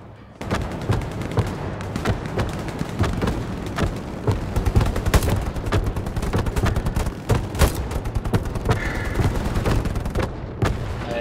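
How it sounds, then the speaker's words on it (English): A dense barrage in the World War II shooter Hell Let Loose during a bombing run: continuous rapid gunfire and machine-gun bursts mixed with heavy thudding explosions, loud and sustained for over ten seconds, with no voices. "Bombing run coming in."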